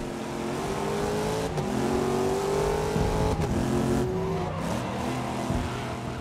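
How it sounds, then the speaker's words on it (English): A Corvette GTE race car in the racing game GRID roars continuously at close range, its engine pitch climbing through gears with brief shift breaks and a skid, loud and alone without voices. "We are in the Corvette, of course, and my God, does it sound good."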